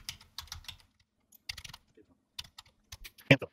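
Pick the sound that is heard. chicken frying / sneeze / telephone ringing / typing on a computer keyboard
typing on a computer keyboard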